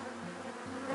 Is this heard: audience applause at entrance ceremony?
no